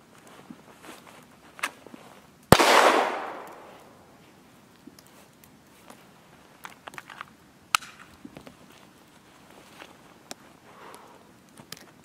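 A pistol fires outdoors in winter toward a distant steel target: one loud, sharp blast with a trailing echo, then scattered faint clicks and ticks.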